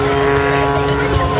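An aerobatic airplane at an airshow holds its engine at full power, producing a loud, steady, droning roar that stays constant for the whole moment.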